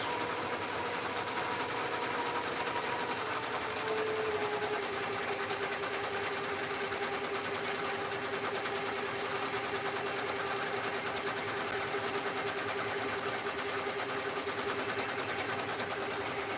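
An embroidery machine stitches out an applique design with a steady, continuous fast whirring buzz up close, unchanging for the whole stretch with no talk.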